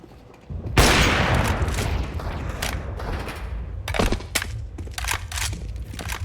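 Pistol fire in the video game Entry Point: a loud opening burst, then a run of sharp, close shots in uneven rhythm.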